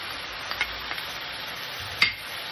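Fried tomato or tomato paste is stirred into a pan for macaroni in pink sauce, a soft steady sizzle under a few light scrapes and one sharp utensil tap against the pan.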